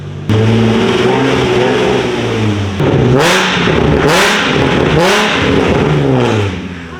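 A Nissan 350Z with a loud aftermarket exhaust revs up close, its engine note climbing and falling in several repeated pulls over a steady idle, with no voices over it.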